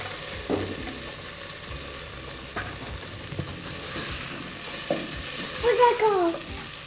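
Potato noodles sizzle softly in a pan, with occasional scraping stirs and a few brief clinks near the end over a low, steady frying hiss.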